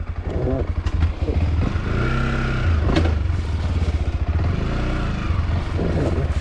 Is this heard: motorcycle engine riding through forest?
yes